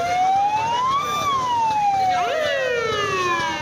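Ambulance sirens wail loudly amid a traffic jam on a road in Pakistan during a protest, rising and falling tones overlapping as more than one siren sounds together.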